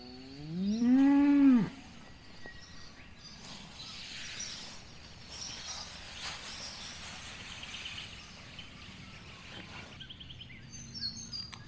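Cattle out on winter hay feed, with one cow giving a loud, rising and falling moo near the start, followed by quieter rustling, shuffling and faint bird calls, no one talking.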